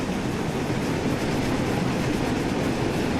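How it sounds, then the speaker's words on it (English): A steam locomotive runs on rails in Train Sim World 6, giving a dense, continuous rumble and rolling wagon noise at a steady level throughout. "These steam engines look very steampunk and warm as you go through the tunnels"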